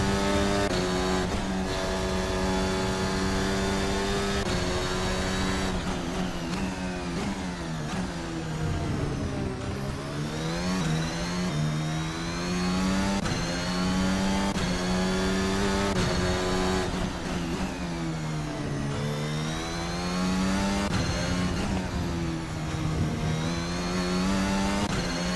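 Formula Alpha 2022 race car, modeled on the AlphaTauri, in a racing sim game: a loud high-pitched engine wails continuously, rising and dropping through repeated upshifts and downshifts, with no talking.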